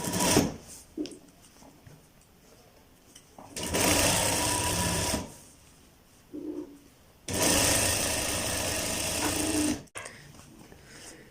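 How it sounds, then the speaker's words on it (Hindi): Sewing machine running a rough tacking stitch on a shirt cuff, two long loud bursts of rapid whirring stitching with short pauses and a brief burst between, close and clear. "आपने इस जगह पर एक रफ सिलाई लगा लेनी है"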